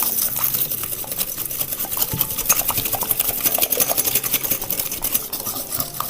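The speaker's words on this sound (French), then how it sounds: "Je casse mes 2 œufs dans le saladier. Hop. Et on va fouetter énergiquement comme d'habitude." Two eggs are beaten energetically with a whisk in a mixing bowl, producing a fast, continuous clattering swish of wire against the bowl, close and steady for the whole stretch with no talk.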